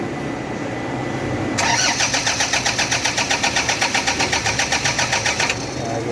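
A Toyota Hiace van that will not run is being started. The starter cranks in a fast, even, rhythmic churn for about four seconds, close and loud, and then stops without the engine catching.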